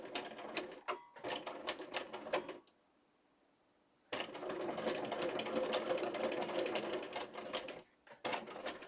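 A sewing machine stitching through paper, a rapid close mechanical clatter in bursts of several seconds separated by a short pause and brief stops.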